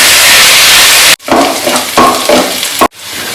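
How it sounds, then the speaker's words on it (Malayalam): Sliced onions and curry leaves sautéing in a pan, a loud steady sizzle close up, broken by stirring scrapes and shuffles as the spoon moves through the pan. "ഇനി കനവോടെ അരിഞ്ഞിരിക്കുന്ന 3 സവാള ചേർക്കുന്നുണ്ട്. ഒരു 2 കറിവേപ്പിലയില. ഇതൊന്ന് നല്ലൊരു ഗോൾഡൻ കളർ ആവുന്നതിന് വഴറ്റിയെടുക്കാം."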